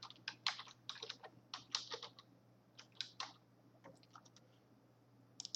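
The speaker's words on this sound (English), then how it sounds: "So I'm going to type in a password." Password keys tapped out on a computer keyboard in bursts of quick, close clicks with short pauses, alone over a faint steady hum.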